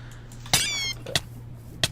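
A Minecraft cat lets out a sharp hiss followed by a couple of short, quick bursts, close and fairly loud against a quiet background with a low steady hum.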